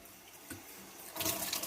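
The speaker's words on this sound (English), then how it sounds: "Okay, now let's go ahead and turn on the cold water." Cold water starts running from a kitchen tap into a sink, faint at first and then a louder steady splashing rush after a moment, close by with no talking.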